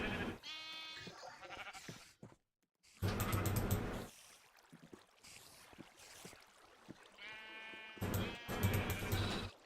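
Harmonic sheep bleats from the video game Agrarian Skies sound in several bursts, near and fairly loud, separated by pauses with game-like background noise and clicks.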